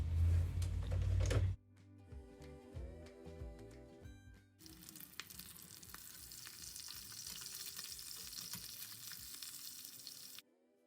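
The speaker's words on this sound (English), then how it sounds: "Then I'm going to move my pork loin into the oil and I'm going to go ahead and fry it all around it." Pork loin fries in hot oil for tostadas de lomo, a steady bright sizzling hiss that runs on after a louder, muffled start and some clinks.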